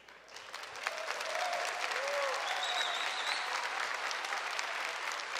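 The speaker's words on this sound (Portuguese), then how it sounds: "Aplaude, né?" An audience at a church sermon applauds, a dense and steady patter of clapping that swells after the first second and holds, with a few faint voices in the background.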